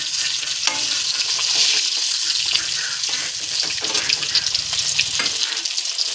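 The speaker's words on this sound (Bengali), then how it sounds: "এবার একে একে মাছগুলি দিয়ে মাছগুলিকে আমি লাল লাল করে ভেজে নেব।" Katla fish pieces frying in hot oil, a loud, dense sizzle that crackles steadily throughout with small pops, close and alone without talk.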